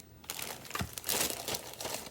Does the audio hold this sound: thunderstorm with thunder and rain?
no